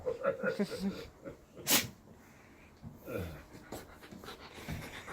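Puppies pant and sniff close by in short, soft breathy bursts with a sneeze-like snort, while people talk quietly on a porch.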